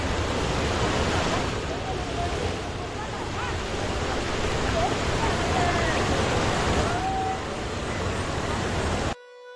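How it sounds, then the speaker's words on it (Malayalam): A stream flowing around a temple near a waterfall in the rainy season, giving a steady, loud rush of water that fills the scene and cuts off abruptly at the end. "ക്ഷേത്രത്തിനെ ചുറ്റി ഇങ്ങനെയാണ് അരുവി ഒഴുകുന്നത്"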